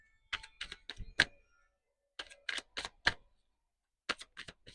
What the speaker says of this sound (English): we're going to get 3 really good shuffles here.